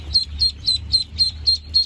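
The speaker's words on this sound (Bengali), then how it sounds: "এখানে এটা হচ্ছে খাকি ক্যাম্বেল আলাদা, দেশি আলাদা, দেশি হচ্ছে আলাদা। এটা হচ্ছে বেইজিং হাঁস।" Day-old Khaki Campbell and Peking ducklings peep in a quick, even rhythm, about seven sharp high chirps close by and loud, with a low rumble underneath.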